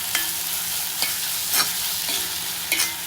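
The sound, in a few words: onions being sautéed in a pan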